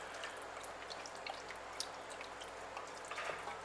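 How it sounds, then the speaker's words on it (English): Four cups of milk are poured slowly into a roux in a pan off the heat while it is stirred, making a quiet, steady liquid trickle with soft drips and light scraping, close by and with no talk. "We want to slowly pour our 4 cups of milk in while stirring."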